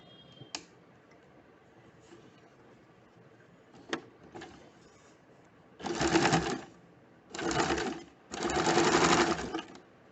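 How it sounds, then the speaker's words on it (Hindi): A home sewing machine stitches across the elastic end of a puff sleeve in three steady bursts of rapid, close mechanical whirring, with brief quiet pauses and a few light clicks earlier on. "इलास्टिक के एंड को सिलाई कर कर सिक्योर कर देंगे।"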